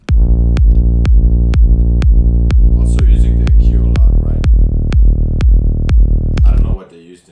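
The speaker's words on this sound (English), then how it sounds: "which I used the Serum preset called bass sustain." Synth bass from the Serum "bass sustain" preset, built from two saw waves with a filter envelope, plays a steady run of repeated plucked notes about every half second, loud and alone, cutting off near the end.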